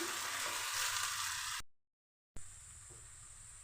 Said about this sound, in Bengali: পেঁয়াজ আর আদা তেলের মধ্যে দিয়ে লাল করে পেঁয়াজ আদা ভেজে নিচ্ছি